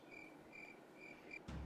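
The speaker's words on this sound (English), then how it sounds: "Sorry, too many crickets." Crickets in the video game Islands of Insight chirp in four evenly spaced high trills over a quiet background, ending with a sudden low thump.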